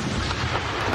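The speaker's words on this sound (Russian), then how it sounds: "Выстрел!" A tank cannon fires a single shot at a target 1,700 metres away during a Tank Biathlon competition, a loud, dense boom with a rolling low rumble that fills the whole second without any talk.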